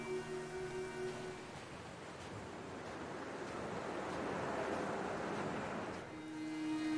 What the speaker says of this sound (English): The wind effects, accompanied with the waves crashing against the rocks, really added to the experience